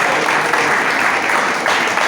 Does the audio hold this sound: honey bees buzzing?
no